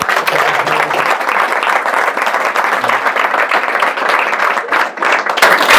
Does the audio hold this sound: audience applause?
yes